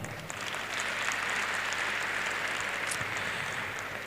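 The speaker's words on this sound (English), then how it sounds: "I'm not taking that applause." Convocation ceremony audience clapping in a faint, even, distant patter that holds steadily from start to finish.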